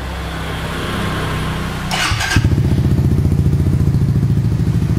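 A motorcycle with a smoke muffler fitted with a single honeycomb dB killer idles close by. It starts with a low steady rumble, a brief clatter, then settles into a louder, loping, pulsing idle.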